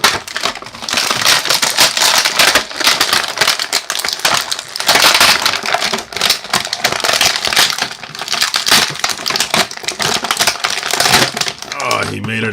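Continuous loud crinkling and crushing of stiff plastic packaging at close range, with rapid scratchy rustles, snaps and a voice speaking briefly near the end.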